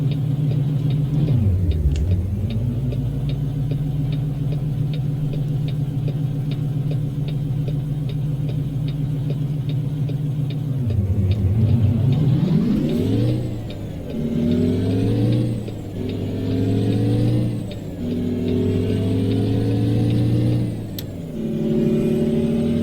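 A truck engine in a driving video game rumbles steadily down a highway, its pitch sweeping up and down through repeated gear changes, loud and continuous without speech.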